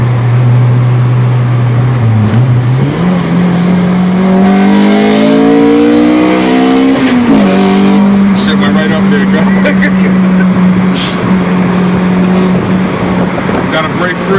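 A Honda B-series engine revs hard through its VTEC crossover during a road drive, the loud close engine note climbing, stepping up sharply at the crossover and then holding high, with people talking over it.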